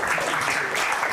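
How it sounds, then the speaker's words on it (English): Brief burst of audience applause at the Paris Blockchain Week conference, a full, even patter of many hands clapping at close range, steady and loud with no voices over it. "So please give a round of applause"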